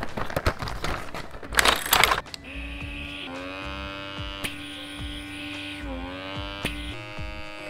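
A handheld blackhead suction removal machine runs on a nose, a steady electric hum with a droning whine, preceded by a burst of rustling and scraping handling noise, with small clicks as it shifts.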